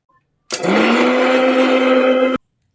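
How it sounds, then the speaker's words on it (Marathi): A kitchen mixer grinder whirs loudly for about two seconds while grinding coconut, starting abruptly and cutting off sharply, with silence before and after. "हे मिक्सरात वाटून आणले"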